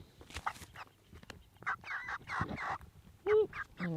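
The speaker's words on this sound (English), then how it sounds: "I just want to pet my chickens." Pet chickens clucking and squawking in short, scattered bursts close by, with someone talking softly to them in between.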